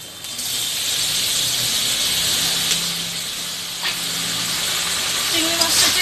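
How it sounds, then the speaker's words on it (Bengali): Shrimp fry with onions in a pan, giving a continuous close hiss and sizzle with a few faint clinks, and no talking. "চিংড়ি মাছটাকে এবার আমি একটু ভেজে নেব।"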